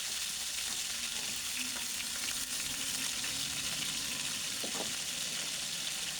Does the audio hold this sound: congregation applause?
no